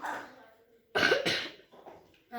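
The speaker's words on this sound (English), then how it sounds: "Sorry for the coughing." A few harsh coughs burst out close up, following a moment of quiet speech-like murmuring, then another short cough at the end.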